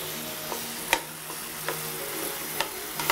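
Apricot dessert being mashed and stirred in a pan, a soft continuous sizzle of cooking with a few light taps and scrapes of a utensil against the pan, steady and close.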